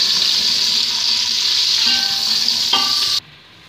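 Sliced onions frying in hot oil until golden for a spiced biryani, a steady loud sizzle running continuously and close up before cutting off abruptly near the end, with no one speaking.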